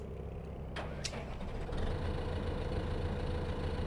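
A New Holland tractor engine in Farming Simulator 15 turns over and settles into a low, steady diesel rumble after a couple of sharp clicks, with no voices.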